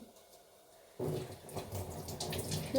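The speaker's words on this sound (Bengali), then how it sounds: "ধুয়ে ধুয়ে দিতে হবে ধুয়ে ধুয়ে তেজপাতাতে আবার অনেক কিছু থাকে" Tap water suddenly starts running over bay leaves being washed, a steady close splashing stream after a second of near silence, with no voices.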